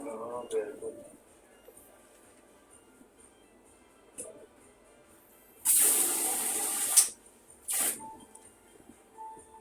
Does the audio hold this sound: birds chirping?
no